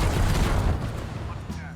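Rapid explosive gunfire from a 1911 pistol build in Black Ops 7 Zombies forms a dense, continuous barrage of overlapping blasts and booms with no pause.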